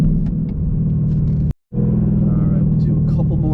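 A Ford Mustang GT with active exhaust in Oxford White accelerates hard from inside the cabin, a loud deep engine rumble that cuts out abruptly for a moment, then resumes strongly.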